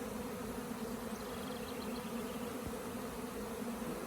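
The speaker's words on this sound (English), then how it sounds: "that's a hell of a swarm" A large honey bee swarm leaving an apiary on a hot day, heard as a steady, dense buzzing hum that fills the air continuously without pause, with no voices.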